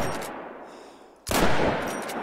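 A G10 rifle fires at a European bison in the hunting game theHunter: Call of the Wild, a faint shot followed by a sharp, louder blast with a short decaying tail.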